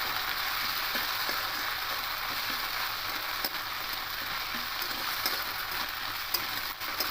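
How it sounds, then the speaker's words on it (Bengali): Ginger garlic paste sizzles and fries steadily in hot oil while being stirred, a dense continuous hiss with faint scraping taps, close and without talk. "এখানে আদা রসুনের পেস্ট এক চামচ মতো দিয়ে দেবো দিয়ে আরও একটু ভালো করে এটাকে কষিয়ে নেবো তেলের সাথে"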